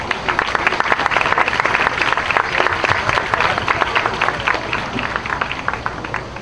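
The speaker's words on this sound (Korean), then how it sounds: "여러분 환호로 맞아주시기 바랍니다" A large outdoor rally crowd of thousands of young doctors at Yeouido applauds and cheers to welcome a speaker, with dense, loud, continuous clapping and voices mixed in.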